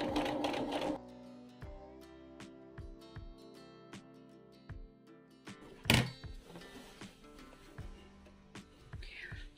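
A sewing machine stitches a Christmas table runner, starting from the very edge with a backstitch, producing a steady run of close mechanical ticks and hums with a louder clunk partway through.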